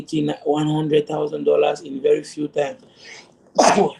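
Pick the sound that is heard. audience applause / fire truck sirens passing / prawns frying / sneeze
sneeze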